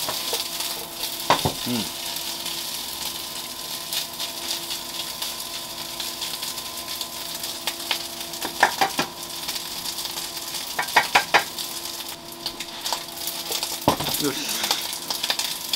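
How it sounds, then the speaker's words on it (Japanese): Fried rice being stir-fried in a pan, a steady sizzle punctuated by a few sharp metallic clanks as it is tossed, with brief spoken remarks. "3回ひっくり返しましたら、ひっくり返して混ぜましたら"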